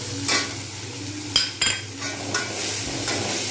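Tomatoes with ginger-garlic paste frying in a pan for a rohu fish curry, stirred with a utensil: a steady close sizzle with a couple of sharp metallic clinks and scrapes against the pan, no voices.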